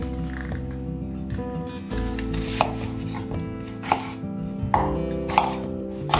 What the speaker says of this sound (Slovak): Že vám ako môj manžel vie krájať cibuľu.